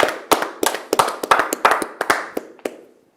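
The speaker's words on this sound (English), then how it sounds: "give yourself a big round of applause for that" Sparse, uneven hand claps at a company awards event, a dozen or so sharp distinct claps from a small group in a quiet room, tapering off by the end.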